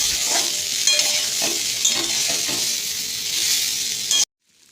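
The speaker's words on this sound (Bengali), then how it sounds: "দিয়ে আমি আবার একটু নাড়াচাড়া করে নেব ভালো করে, যাতে আমলকিটা কেটে যায়।" Gooseberries being stirred in a pan with Kashmiri chili powder for a pickle, a steady sizzle with scraping spoon strokes running continuously before cutting off abruptly near the end.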